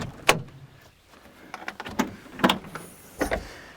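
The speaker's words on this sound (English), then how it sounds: "We'll open up this storage box" Storage box on an RV hauler trailer being opened, a series of sharp clunks and latch clicks with a metallic rattle, several distinct knocks spaced across a few seconds, close by and with no talking.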